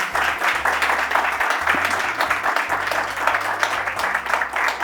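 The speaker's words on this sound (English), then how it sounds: "Can I have another round of applause for her" An audience claps steadily throughout, a dense wash of applause with low background music or hum underneath.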